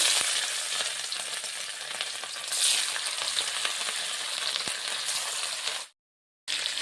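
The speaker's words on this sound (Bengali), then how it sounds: "মাছটা ভেজে নেই, মাছটা হলুদ দিয়ে মেখে নিয়েছি।" Turmeric-rubbed katla fish pieces fry in hot oil with a loud, dense, continuous sizzle and faint spatters, stopping abruptly for a moment near the end before resuming.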